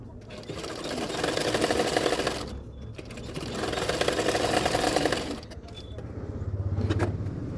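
Electric sewing machine stitching a 34-size double katori blouse, running in three sustained whirring bursts separated by short pauses, close and steady, with someone talking over the stitching.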